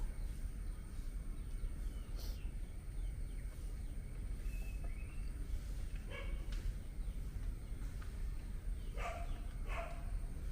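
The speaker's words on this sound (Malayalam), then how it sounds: "അവിടെ പട്ടിയുണ്ട്, അറിയാലോ" A dog at a home barks a few times at a distance, faint, sharp yelps over steady background hiss, with birds chirping faintly nearby.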